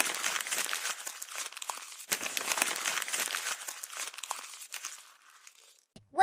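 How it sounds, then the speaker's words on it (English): Paper crumpled up close in dense, crackling bursts of crinkling for about five seconds, thinning out toward the end; no talking. "A paper being crumpled."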